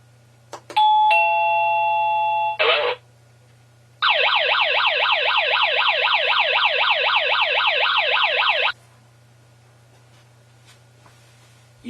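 An OxyLED D01 wireless doorbell rings loud and clear: first a bright two-tone chime held for about two seconds, then after a pause a longer warbling electronic melody, with a faint steady hum underneath.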